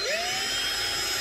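Small drill boring a hole in a Hornby APT model train power car, a close, high-pitched whine rising as it spins up, then holding steady alone.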